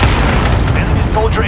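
Cluster strike explosions in the video game Warzone: a dense, loud, continuous rumble of blasts with a voice talking over the din.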